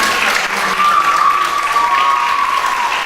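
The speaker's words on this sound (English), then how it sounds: "Give her a round of applause." A reading competition audience gives sustained, loud applause for a young reader, a thick wash of clapping with a faint high tone running through it.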